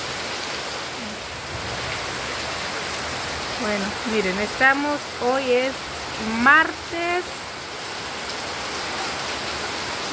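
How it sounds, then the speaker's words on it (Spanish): Steady rain falls on a late-August day, a broad continuous hiss under people talking in Spanish in the middle of the clip. "Aquí nos está lloviendo."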